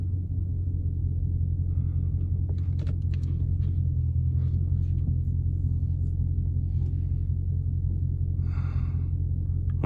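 Idling V8 of a Dodge 392 Scat Pack in cold weather before a launch, a steady deep low rumble held throughout with faint clicks and a brief rustle near the end, no talking.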